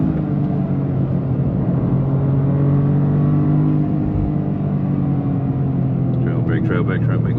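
A 2025 Toyota GR Corolla Premium engine pulls hard while driving, a loud steady rumble and drone throughout the cabin with a voice talking over it.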